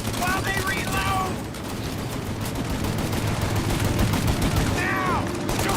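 Sustained gunfire in the Mafia video game, a loud, continuous rattle of rapid shots with a shouting voice at the start and end.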